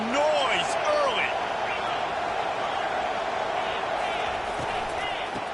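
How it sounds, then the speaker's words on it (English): Dense, steady stadium crowd roar in a football video game, a loud continuous wash of cheering that holds level throughout, with faint whistle-like tones rising and falling near the start. "This crowd bringing the energy and noise early."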